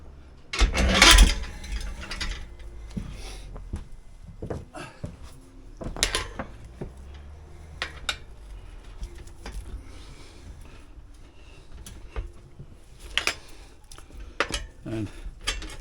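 Metal tyre levers clink and scrape while a tyre and inner tube are worked onto a motorbike rim, with irregular close-up clanks, ratcheting scrapes and knocks spread through the clip.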